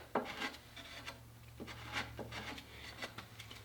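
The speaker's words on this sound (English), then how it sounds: "have to sand down this recess that was put in for that bolt clearance." Hand sanding of a bolt-clearance recess on a 1944 International car part, close rhythmic scratchy strokes that come in short uneven passes over a faint steady hum.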